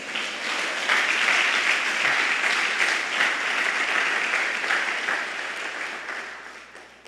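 Congregation at a Foursquare (Quadrangular) church service applauding, a dense, steady wash of many hands clapping together that holds for several seconds before gradually fading.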